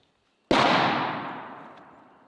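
A bullpup rifle fired remotely by pulling a string outdoors, one sudden loud report after silence, followed by a long rolling echo that fades over about two seconds.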